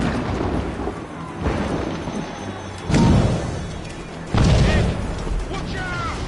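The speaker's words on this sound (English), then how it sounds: "Chevalier is using mortars to stop Shay." Mortar fire in the video game Assassin's Creed Rogue: two heavy, rumbling booms a little over a second apart stand out from a constant low battle roar, with voices talking in the scene.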